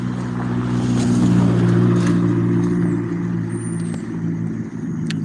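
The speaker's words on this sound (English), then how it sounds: "You can hear the sound of an automobile approaching from behind me." A car approaching from behind on an evening street in Olney, Illinois, a low rumbling engine swelling and fading over several seconds, with faint higher background sounds.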